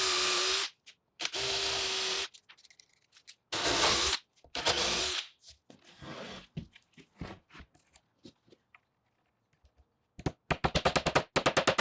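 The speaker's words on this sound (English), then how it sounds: "I'll centre the fence by eye and then mark and drill through holes" A power drill bores holes through a jig for making steel boxes, running in several loud bursts of a few seconds each. Quieter handling noises and pauses separate the bursts, and a rapid rattling run of taps closes the sequence.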